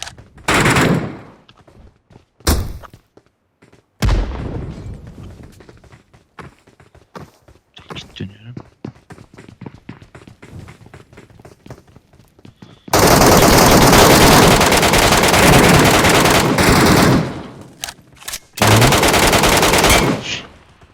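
Gunfire in PUBG Metro Royale on mobile: scattered single shots early on, then two loud, sustained automatic bursts near the end, with players talking in between.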